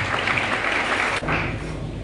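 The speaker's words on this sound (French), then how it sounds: "que soit applaudi donc le président Bokondo aussi" Applause from a gathered crowd of newly elected deputies and supporters at a thanksgiving service, honouring President Bokondo: steady, dense clapping that briefly dips and then resumes, with no one speaking over it.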